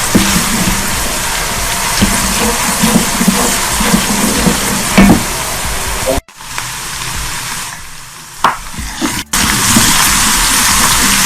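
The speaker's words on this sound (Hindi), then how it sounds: "हल्का सा भून लेंगे प्याज को, इसका पानी खुश्क हो जाए।" Onions fry in a pan with a loud, dense, continuous sizzle and hiss, broken briefly by a couple of sharp dips and surges as the pan is disturbed.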